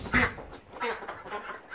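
Several farm ducks quack in a barn, a loud burst near the start followed by a few softer quacks, close by with no talking.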